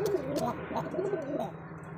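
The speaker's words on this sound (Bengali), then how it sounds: "এটা হচ্ছে কোকা কবুতর।" Pigeons at a pigeon sale, among them the Koka breed, give soft, low cooing calls close by, a few rolling coos over two seconds.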